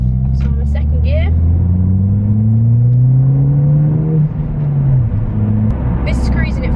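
Car fitted with a Scorpion exhaust pulling away under throttle in second gear: a loud, close, steadily rising engine drone with exhaust rumble that builds for several seconds, then eases as revs drop, with brief talk at the start and end.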